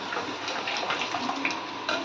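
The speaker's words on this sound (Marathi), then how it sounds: "तुम्हाला जशी घट्ट पातळ पाहिजे ना त्याप्रमाणे पाणी घालायचं" A short, steady splash of water poured into a pot of cooked moong dal, close and continuous, with no voices.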